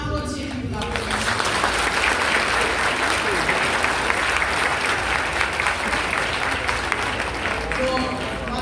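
Sustained audience applause fills a ceremony for children living in displacement camps in Haiti, a dense, steady wash of many hands clapping at close range that holds evenly from start to finish, with voices mixed faintly underneath.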